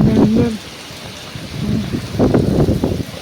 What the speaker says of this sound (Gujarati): અંધરાધાર વરસાદ ચાલુ થઈ ગયો છે પવનની સાથે